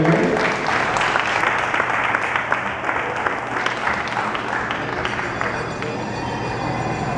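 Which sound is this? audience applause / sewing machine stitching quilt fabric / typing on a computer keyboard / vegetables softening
audience applause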